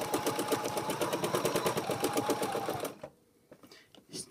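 Sewing machine stitching around fabric, a fast steady mechanical chatter of needle strokes for about three seconds, then stopping into near quiet with a few faint clicks.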